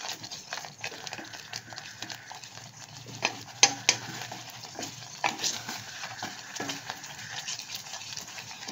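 A mango and paneer mixture for sandesh is stirred in a pan as it thickens, with soft scraping strokes over a faint sizzle and occasional light clinks of the utensil.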